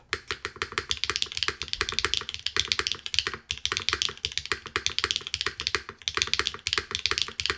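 Fast, clacky typing on a Gray Studio Infinite 70 TKL mechanical keyboard, dense bursts of loud, close keystrokes with a few heavier spacebar hits and brief pauses between runs.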